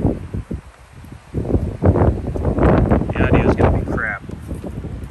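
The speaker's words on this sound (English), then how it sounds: "Super windy." Gusty wind buffets the microphone with low rumbling bursts while someone talks over it, rising louder through the middle.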